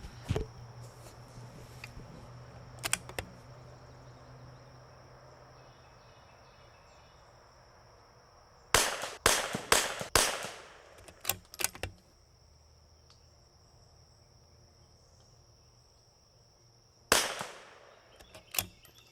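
CZ 455 rifle firing Eley Match ammunition outdoors, a cluster of several sharp cracks in quick succession near the middle, then a single later shot, with quiet ambience and faint insect chirping between.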